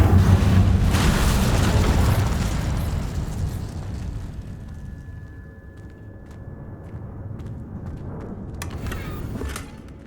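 An Incendio fire spell cast in Hogwarts Legacy bursts with a loud whooshing roar at the start, then fades into a lingering crackling rumble that swells slightly again before the end.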